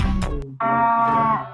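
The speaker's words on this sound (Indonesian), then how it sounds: "Nah, ini suara sapi misalkan." A cow's moo plays from a video, a sustained, slightly nasal call after a short burst of background clatter, reasonably loud and alone without talk.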